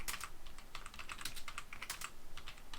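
Fast, quiet clicking of computer keyboard keys while code is typed, irregular clusters of close keystrokes with no voice.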